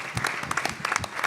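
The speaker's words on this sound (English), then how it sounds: "let's give it a round of applause for the staff for the work that they do." Audience at a conference hall clapping for the staff, a dense, continuous round of applause from many hands close by, with no voices heard.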